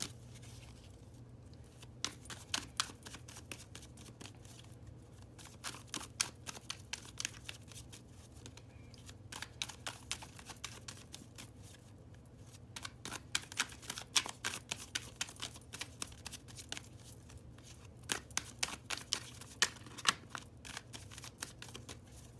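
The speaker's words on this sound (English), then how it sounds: "Let's finish shuffling these cards." Tarot cards are shuffled by hand in quick, soft riffling bursts with short pauses between them. The sound is close but quiet, with no voices.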